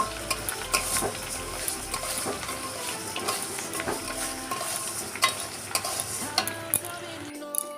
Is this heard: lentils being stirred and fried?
yes